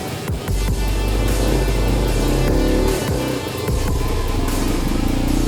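A Yamaha Virago 125 motorcycle engine runs loud and close, a steady low idle throb with brief revs, no voices over it.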